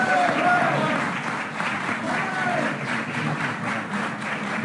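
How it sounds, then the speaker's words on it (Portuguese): Applause from an audience in a hall at a Jonas Savimbi birthday event, steady and sustained throughout, with a murmur of voices mixed into the clapping. "Muito aplaudido por todos os presentes nesta sala."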